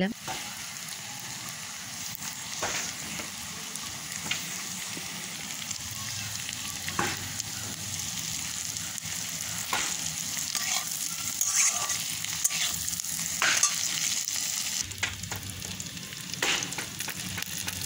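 Chicken and soya chunks fry in a pan on a rooftop cooking spot, giving a continuous bright sizzle with intermittent stirring scrapes and clatters throughout, moderately close and unaccompanied by talk.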